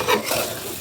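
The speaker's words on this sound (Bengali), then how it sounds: "এখন আমি এটা নেড়ে দিই।" Noodles with tomato fry in a pan while a utensil stirs and scrapes them, giving a close, continuous sizzle with brief rustling stirs.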